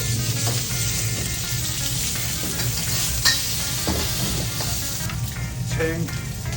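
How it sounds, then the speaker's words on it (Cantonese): Chicken is stir-fried in a hot wok, a continuous close sizzle with scraping and tossing stir sounds running steadily throughout, with no talk. "爆鑊"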